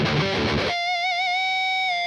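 A heavily distorted metal rhythm guitar through a Neural DSP Nolly Archetype amp plugin, with a dense chugging strum that gives way to a ringing, sustained chord, loud and close with no talk.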